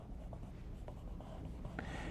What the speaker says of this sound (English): Erase the inner part.